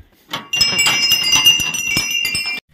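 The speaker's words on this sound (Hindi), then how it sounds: "यहाँ पे बहुत सारी घंटी लगी हुई है" Many bells hanging at the Sem Mukhem Nagraja temple in Tehri Garhwal ring together in a busy, overlapping clangor of metallic strikes with sustained shimmering tones, loud and close, starting after a brief hit and running on steadily.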